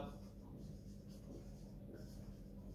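A pen scratches across paper in short, faint strokes close by, over a low, steady room hum.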